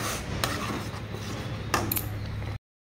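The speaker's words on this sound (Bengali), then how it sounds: "আমি টমেটোটাকে আমি এভাবে নাড়িয়ে চাড়িয়ে কষিয়ে নিব টমেটোটাকে" Tomatoes for a sweet Bengali tomato chutney are stirred and sautéed in a pan: soft scraping and a few clinks of a utensil over a low, steady sizzle, ending abruptly.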